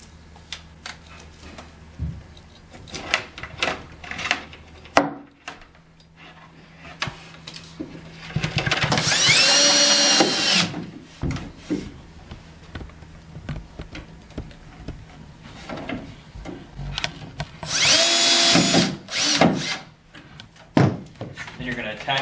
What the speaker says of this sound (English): And you're going to run 2 screws in there.